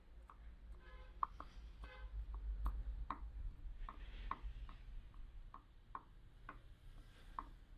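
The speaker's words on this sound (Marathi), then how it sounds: "यावरती आपण कोथिंबीर कट करून टाकू" Fresh coriander chopped on a board beside fried garlic bread, a run of faint, uneven knife taps with short rapid bursts and gaps, over a low background hum.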